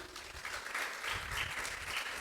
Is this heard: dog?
no